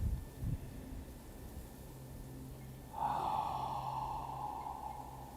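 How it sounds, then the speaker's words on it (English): A person takes a deep, slow breath, then lets it out in a long, voiced, yawning exhale. The breath is soft, close and quiet, and the drawn-out sigh-like tone fades away gradually. "Take a couple of nice, deep, slow breaths, and with the exhalation, making a sound of like you're yawning"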